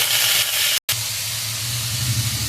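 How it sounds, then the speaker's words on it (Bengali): Bottle gourd fries in a pan with a steady, close sizzling hiss that briefly cuts out, then resumes evenly with a low bubbling undertone. "আমাদের মোটামুটি লাউটা ভাজা হয়ে এসছে ভাজা ভাজা ভাগ হয়ে এসছে"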